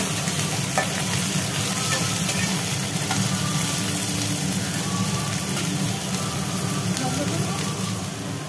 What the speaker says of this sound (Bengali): পেঁয়াজগুলো একটু ভাজি ভাজি হয়েছে, এরপরে পড়লো সজনের ডাঁটা। পেঁয়াজেতে ডাঁটাতে নাড়াচাড়া করে